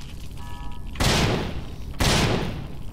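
Two heavy gunshots blast out one second apart in the horror video game Half Dead 2, each loud and sharp with a booming, fading tail, and no talk over them.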